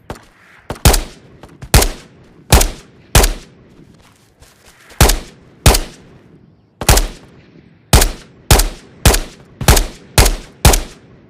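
Gunfire in the video game Ghosts of Tabor rings out as loud, sharp shots, some in quick bursts and others spaced apart, with brief pauses between groups over several seconds.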